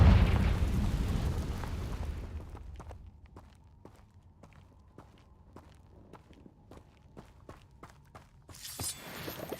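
A Confringo blasting curse explodes in a Harry Potter video game: a loud, rumbling blast opens and fades over about two seconds, followed by soft, steady footsteps and another sharp burst near the end.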